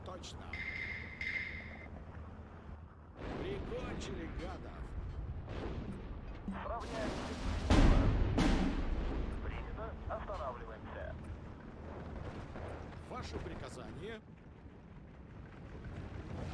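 Artillery shells from a WW2 real-time strategy battle in Steel Division 2 crash down on enemy units: repeated booms and rumbling impacts over sixteen seconds, with one heavy blast near the middle, set against constant battlefield noise.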